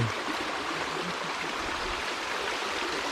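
A forest stream rushing steadily, a dense, continuous broadband flow of water heard close and alone, without talk.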